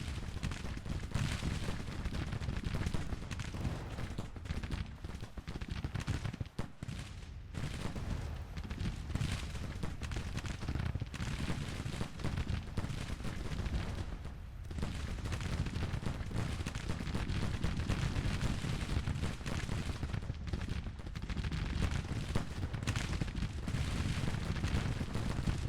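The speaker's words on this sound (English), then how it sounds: "We're starting to take fire now." Civil War battle gunfire in the Grand Tactician strategy game, distant musket volleys and cannon booms crackling continuously as a low, rumbling battle din with no talk.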